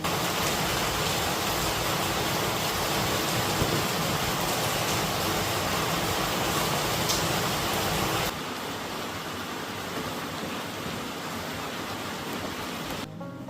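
Steady rain pours down outdoors, a dense, continuous hiss that holds loud and even before dropping slightly softer partway through, with no voices.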